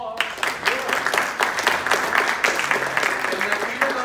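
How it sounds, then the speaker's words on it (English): Audience applause at a tribute event honoring a founder, steady clapping throughout with some voices mixed in, moderately loud and close. "Applause."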